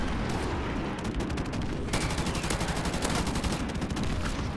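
Automatic gunfire in Call of Duty Remastered, loud, close, fast-repeating shots in long sustained bursts with a brief break partway, continuing to the end.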